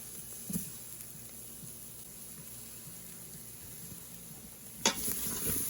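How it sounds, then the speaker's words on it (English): Curry vegetables, cauliflower and potato, fry quietly in a pressure cooker pot with a faint steady sizzle, broken by two brief stirring clanks near the start and end. "Fry the curry."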